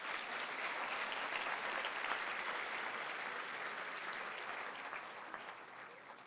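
A church congregation claps together in a sustained, even round of applause that is moderately distant and gradually eases off.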